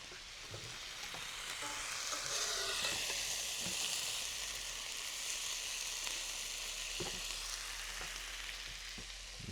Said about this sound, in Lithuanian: kol bičiulis kepa svogūnus